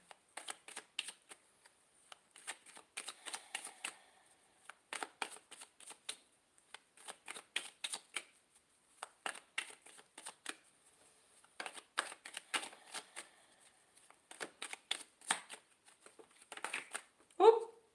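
Tarot cards being shuffled by hand during a live reading, repeated bursts of crisp riffling and slapping in uneven clusters with short pauses between, close and fairly quiet.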